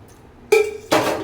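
Two close, sharp metallic clanks ring out a moment apart as a cooking pot is set down on a lit stove, each leaving a short bright ringing tail.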